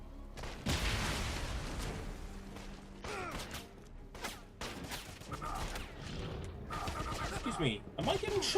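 Gunfire in Wolfenstein crackles in scattered bursts and sharp shots, fairly faint and partly buried under someone talking.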